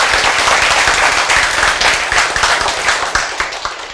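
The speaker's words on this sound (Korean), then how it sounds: "이 박수 한번 쳐야 되지 않겠어요?" Audience applause at a health lecture: dense, loud clapping from a near crowd fills the whole stretch and thins slightly toward the end, with no voices over it.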